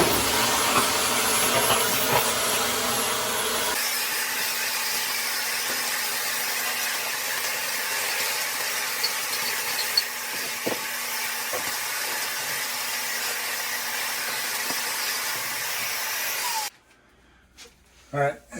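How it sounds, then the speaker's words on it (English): A vacuum runs steadily inside the connection where a dryer vent meets the dryer, a loud continuous whooshing roar with occasional knocks and bumps, cutting off near the end. "I'm gonna vacuum inside the connection to the dryer over here."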